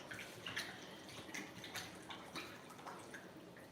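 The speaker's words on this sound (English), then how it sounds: "Just rinse it so that we can get the salt out." Running water rinsing salted fish in a cooking pot, a faint splashing and trickling with small drips and sloshes, steady and close.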